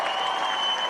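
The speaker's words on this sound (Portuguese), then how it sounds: "O público aplaude novamente." A crowd claps and cheers steadily at a Trump victory speech, dense sustained applause filling the short moment without a break.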